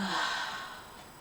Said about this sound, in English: Inhaling into the belly through the nose and exhaling through the mouth.